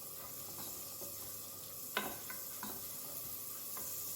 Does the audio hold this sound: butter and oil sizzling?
yes